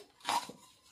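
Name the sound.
lid placed on pan while cooking egg paratha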